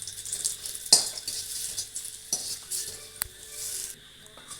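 Chana dal sautés in sesame oil in a pan for pirandai chutney, with a low sizzle under repeated scrapes and clinks of a spoon against the pan.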